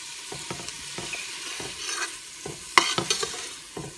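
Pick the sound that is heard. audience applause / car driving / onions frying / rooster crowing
onions frying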